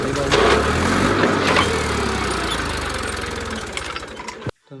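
A tractor engine runs at night after being freed from getting stuck, a steady low diesel rumble and clatter close by that cuts out abruptly at the very end.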